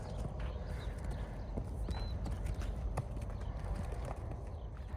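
Horses on a farm shuffle and step with soft, irregular hoof clops, fairly close by, over a low outdoor rumble, with a faint brief squeal in the background.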